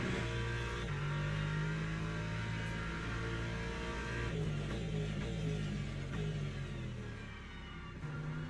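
Race car engine in Le Mans Ultimate at Daytona, wet, warming its tyres: a steady, fairly loud droning engine note holding constant with slight pitch shifts and no talking.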